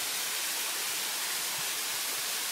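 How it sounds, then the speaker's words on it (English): A waterfall in the White Mountains, heard from its base: a steady, dense hiss of falling water that runs evenly throughout without a break. "here we are at the bottom of the waterfall"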